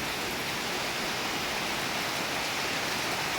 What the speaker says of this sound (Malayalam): നല്ല മഴ വന്നുണ്ട്